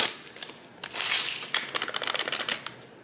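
A packet of onion soup mix is torn open and emptied into a bowl of cracked eggs for meatloaf, giving close crinkly plastic rustles and a rapid patter of dry granules, with no talk.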